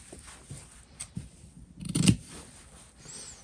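Scissors snip fabric corners while sewing a simple wallet, with a cluster of short cutting sounds up close around the middle and quiet handling before and after.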